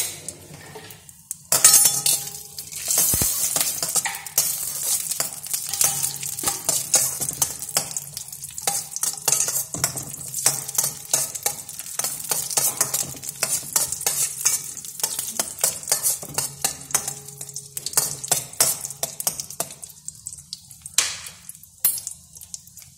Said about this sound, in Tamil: நெய் உருகி வரவும் நாம் எடுத்து வைத்திருக்கிற கிஸ்மிஸ் பழம் அண்டி இவற்றை போட வேண்டும்